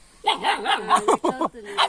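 A small dog from next door yaps in a quick run of close, loud barks and yips, with short whimpering notes between them.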